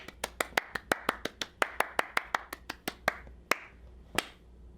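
Children clap along at a library storytime: about twenty crisp, close hand claps in a brisk steady beat, with a few last scattered claps before it falls quiet.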